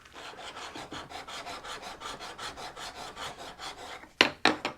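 A hone rubs back and forth across a woodturning tool to remove the grinding burr, lubricated with lapping fluid: a steady, even rasping stroke repeated about twenty times, close and alone, ending with a few sharper knocks.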